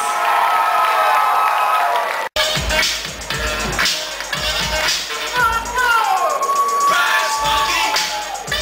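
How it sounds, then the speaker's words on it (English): Crowd at a Houston Rockets 2010 NBA draft party at the House of Blues cheering, whooping and applauding loudly and continuously after a brief cut, with shouts rising over the clapping. "give it up for Craig Ackerman and Chase Budinger one more time, folks"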